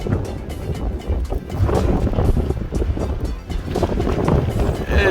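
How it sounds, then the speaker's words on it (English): Strong gusting wind buffets the microphone at a beach while riding along the shore, with roaring surges that rise and fall unevenly and drown out everything else. "It's just so ridiculous wind."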